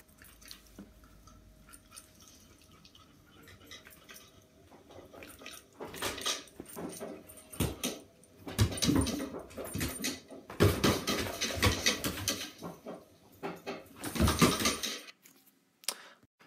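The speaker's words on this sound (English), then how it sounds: "So I'm just going to show you some quick video footage of my pet dog Bonnie responding to a specific stimulus." A pet dog reacts to a cuddly toy waved in front of her face, with quick snapping bites, chewing and soft whimpers that grow louder in bursts after a quiet start.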